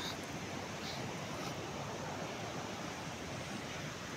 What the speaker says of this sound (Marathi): आणि किती छान धबधबा